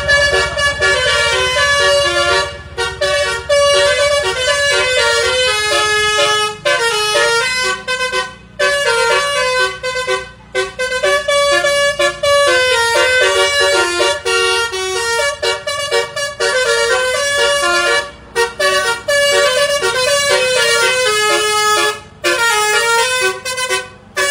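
Bristran bus horn, a loud melodic multi-tone horn playing a continuous tune for over twenty seconds with brief gaps between phrases, bright and close over a low engine rumble.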